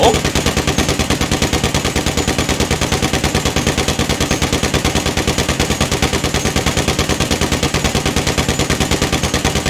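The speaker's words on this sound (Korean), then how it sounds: "200발이 몇 초 동안 발사가 되는지 확인해 볼게요." Combat MG machine gun in GTA 5 firing one long unbroken burst, rapid evenly spaced loud shots continuing for the full duration with no pause.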